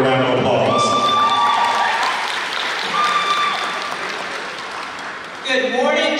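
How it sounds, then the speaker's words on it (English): An audience at a high school Decision Day event applauds an assistant principal coming up to speak, steady clapping with a few shouts and whistles, tapering before a voice starts over it near the end. "Y'all give her a round of applause."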